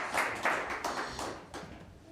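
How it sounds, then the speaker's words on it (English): Audience applause for a guitar academy performance at a guitar shop, a few seconds of scattered clapping from a small indoor crowd, moderately loud and fairly steady with no talk over it. "give a good round of applause for them"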